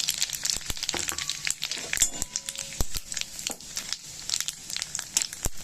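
Bay leaves, dried chillies and whole cumin seeds frying in hot oil, giving close, irregular crackles and sharp pops over a soft sizzle.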